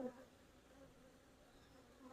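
Honey bees buzzing in an opened hive with freshly capped frames, a steady dense hum that stays even and faint throughout, close by with no talk.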